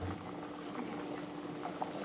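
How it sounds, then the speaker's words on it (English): Pasta bubbling in a pot of boiling water on a stove, a steady soft rolling simmer heard up close and fairly quiet, with no talking. "Pasta's been boiling for 10 minutes."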